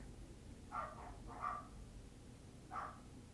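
Dogs barking in the background indoors: three short, muffled barks spaced about a second apart, faint and distant.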